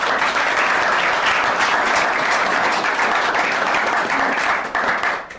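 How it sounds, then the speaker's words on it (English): An audience at a business leaders' session gives a round of applause, a dense steady clapping from many hands that holds evenly and then tapers off at the end. "With that, quick round of applause, and then we'll open it up for questions."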